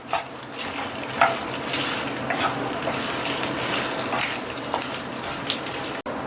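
Cumin, kasuri methi, curry leaves and grated coconut roast in hot oil, giving a steady close sizzle and crackle with scattered pops throughout, no voices.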